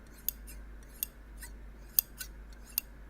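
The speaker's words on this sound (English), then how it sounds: "they're made of metal and they're quite hefty, so that's why they sound very, very big, hefty scissors" Hefty metal sewing shears snip several times in an uneven rhythm, each cut a crisp, close, hefty metallic click against a quiet background.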